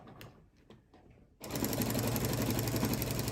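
A home sewing machine stitches through a thick Minky quilt-as-you-go panel, starting after a few faint taps and then running in a loud, steady rapid whir to the end.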